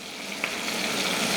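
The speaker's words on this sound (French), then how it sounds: "Je mets la valeur d'un oignon émincé que je vais faire rissoler dans le côté de ma casserole." Sliced onion frying in a saucepan beside poultry: a steady, close, crackling sizzle with a small pop, continuous and without talk.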